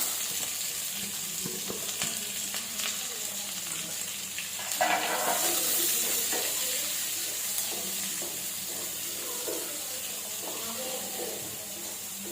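Onions sizzle and hiss steadily as they sauté in a hot pan, with occasional stirring scrapes, close and moderately loud, without clear talking.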